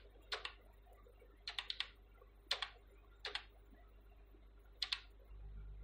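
Keys tapped on a computer keyboard in a few sparse, quiet clusters of sharp clicks, separated by pauses of about a second, against a low hum and no talk.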